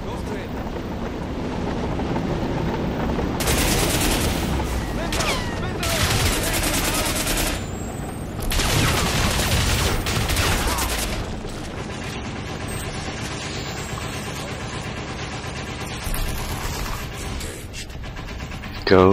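Gunfire in the video game Crysis, with bursts of automatic shooting in two loud stretches, then quieter battle noise and a final sharp shot.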